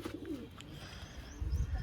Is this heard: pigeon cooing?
yes